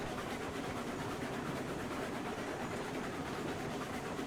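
A train runs along rails in a steady, low rumbling roll with a faint clatter underneath, constant throughout and fairly quiet, with no speech.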